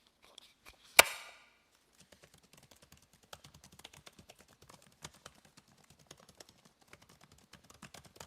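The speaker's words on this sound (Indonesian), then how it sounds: "kita coba untuk ngetik-ngetik seberapa nyamankah untuk keyboardnya" Keys clatter on the keyboard of a Lenovo Yoga Slim 6 laptop in a steady stream of soft, close clicks, following one sharp knock near the start, with quiet room tone and no speech.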